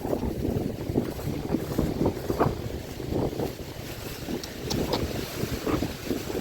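Strong wind with rain during morning catfish fishing, buffeting the microphone with a rushing, rumbling roar, steady and close throughout; the rain itself is hard to pick out.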